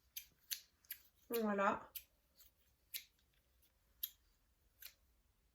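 A pair of craft scissors snips and clicks in a series of short, quiet strokes, with a brief spoken word in between.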